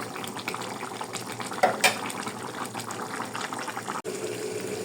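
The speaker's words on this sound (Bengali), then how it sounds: "হাঁসের গোসে ঝোলের জন্য পরিমাণ মতো পানি দিয়েছি" Duck meat curry simmering with water in a pot: a steady low bubbling and liquid hiss runs throughout, with a couple of brief louder clinks near the middle and no voices.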